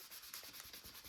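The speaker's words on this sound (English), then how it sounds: "rub it in, rub it out" Ink rubbed by hand onto a mixed media background, a faint, continuous scrubbing and rubbing with quick rhythmic back-and-forth strokes.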